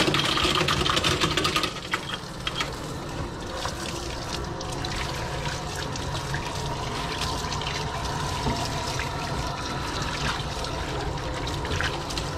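Running water rinses a severely neglected apricot Poodle during grooming, a steady close spray and trickle with a brief louder gush at the start.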